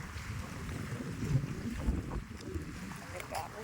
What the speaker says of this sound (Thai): อู้แล้วคลื่นแรงมากเลย